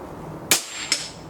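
Two sharp impacts from an air rifle, a pellet shot and its strike on a target with black dots and an orange square, about half a second apart, the first louder and the second a softer crack.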